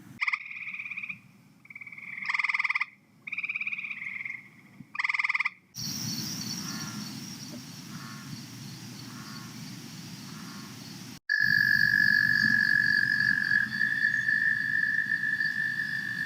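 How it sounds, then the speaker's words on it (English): Several frog species call in turn, captured by acoustic recorders at nature preserves: pulsed trilling bursts first, then a dense chorus of steady high trills over a low droning background, loud and close with no voices. "see what other frogs are calling at some of our preserves"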